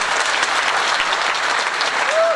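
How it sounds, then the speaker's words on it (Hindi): Audience at a comedic poetry event in a hall clapping together, a dense, loud, even burst of applause throughout. "आप लोग एक बार तालियां बजाइए"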